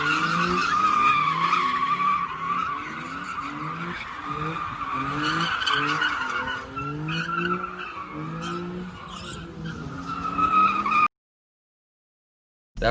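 An Infiniti and a Mustang spin donuts, tires squealing in long, wavering howls over a revving engine that rises and falls, loud and close, before the sound drops out suddenly.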